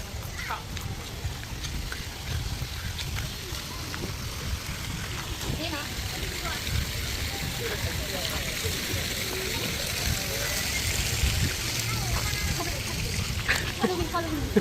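A waterfall at a hot spring resort in Laguna pours in a steady, broad rush of falling water with splashing, close by and continuous, while people talk over it.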